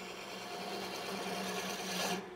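Wood lathe gouge cutting a cove, a close, continuous whirring scrape with a rhythmic rotational pulse that builds slightly before stopping.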